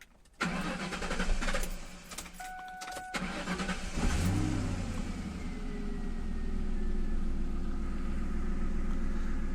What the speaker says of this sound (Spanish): Vamos a encender el vehículo.